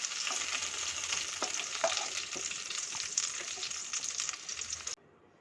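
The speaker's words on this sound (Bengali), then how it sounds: "হালকা লালচে কালার আসা পর্যন্ত পটলগুলোকে তেলের মধ্যে ভেজে নেব।" Pieces of pointed gourd (potol) frying in hot oil, a dense continuous sizzle with light stirring that cuts off abruptly near the end.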